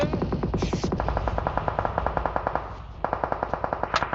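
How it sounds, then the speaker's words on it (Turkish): Rapid bursts of gunfire in a PUBG Mobile match on the Erangel map, with regular close shots forming steady strings of pops. There is a short break, then the shooting picks up again, with no talk over it. "Aşağı tabanca sıkanlar var lan."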